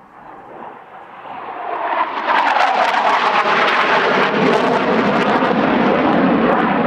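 A Saab Draken jet fighter flying an air festival display makes a broad roaring rumble that swells over the first two seconds and then holds loud and steady.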